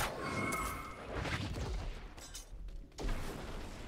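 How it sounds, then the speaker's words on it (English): Repeated explosions and blasts in the action game Diablo IV, a dense, loud barrage of booming bursts with crackling debris that swells, dips briefly and then erupts again. "way too much explosions"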